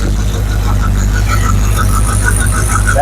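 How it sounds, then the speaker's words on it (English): Truck drive shaft fitted with carrier bearings, one of them a Jaguar unit, spinning on a homemade driveshaft rig: a loud, steady, low mechanical hum that runs on evenly throughout. "That drive shaft runs smooth."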